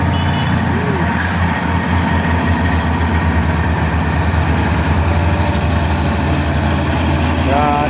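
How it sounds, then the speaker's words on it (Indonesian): Heavy trucks and a trailer grind up a steep hill road at Bukit Kodok with a loud, continuous low engine drone, a reversing beep in the mix, and voices talking over the traffic. "Ya di sini ramai truk ya."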